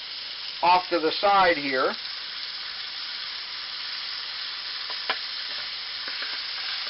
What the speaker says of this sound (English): I'm going to cook a second steak